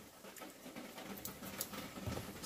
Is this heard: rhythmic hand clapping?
no